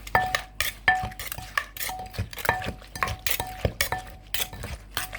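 Papaya salad (som tam) being pounded, a rapid, uneven rhythm of sharp close knocks and clinks from the pestle against the mortar, with no talking.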